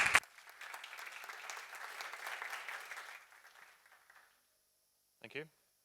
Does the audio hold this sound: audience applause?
yes